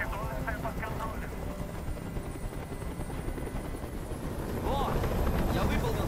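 A helicopter hovers nearby in the video game Detroit: Become Human on PS4 Pro, its rotor making a loud, continuous throbbing drone, with brief voices breaking through near the start and end.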